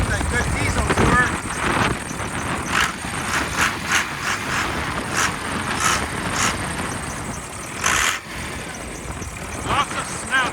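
A 1999 Dodge Ram 3500 diesel pickup with a turbo runs with the hood open, a steady rumbling idle heard close up while someone talks over it.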